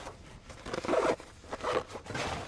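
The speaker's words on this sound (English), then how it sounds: "Zips up nice." A zipper is drawn shut on a small storage bag in a quiet space, two or three quick rasping pulls, close and fairly soft.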